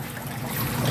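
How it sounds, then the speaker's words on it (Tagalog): An aquarium pump in an ornamental fish tank setup pushes water upward, making a steady, soft trickle over a low, even hum with no talking. "Ito yung pump. So akyat yung tubig pataas."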